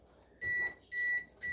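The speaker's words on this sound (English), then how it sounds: "That's my alarm for my door." A fancy refrigerator's door-open alarm in an off-grid Alaska home gives three sharp electronic beeps in an even rhythm, close and clear, with the last beep cut short.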